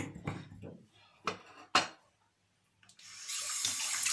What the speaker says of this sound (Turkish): Ellerimi yıkayayım ben burada şimdi.